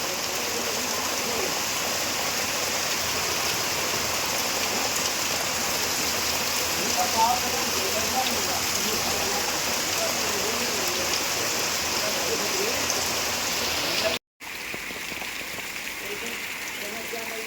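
Heavy monsoon rain falling outside, a dense, steady roar of downpour that continues unbroken, with a brief cut near the end before the same rain resumes.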